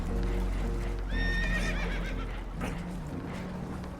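A spooked horse whinnies loudly in Red Dead Redemption 2, its high wavering cry rising and falling over a low rumbling background, followed by a brief clatter.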